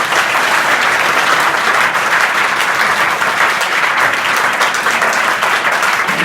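Schoolchildren in an assembly applaud Advocate D.P. Pandey, a loud, continuous wall of clapping that holds steady throughout.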